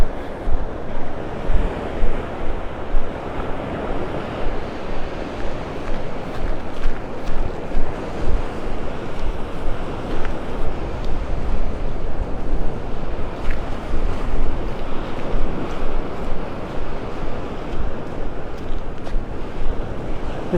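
Ocean surf washing onto the beach at Marco Island, Florida, a steady broadband roar of breaking waves with gusting wind buffeting the microphone throughout, continuous and fairly loud with no voices.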